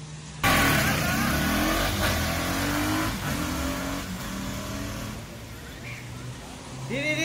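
A car engine revs and pulls away, a steady mid-range roar that swells and holds close by with faint speech in the background.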